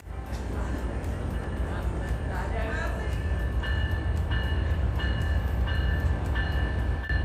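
The Silver Meteor passenger train, led by locomotives ALC-42 No. 318 and P42DC No. 193, rolls steadily into the platform, a constant low rumble with rhythmic clacking and faint high squeals; a voice talks over it.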